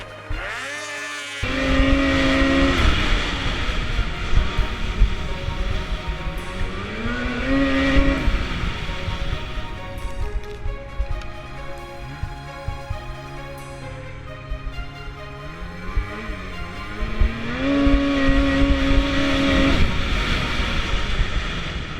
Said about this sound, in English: they test each sled to make sure it's reaching the right RPMs for the altitude and temperature